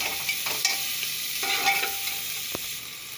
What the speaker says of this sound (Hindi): थोड़ा हम इसको चला लेंगे और प्याज को ब्राउन होने तक भूनेंगे।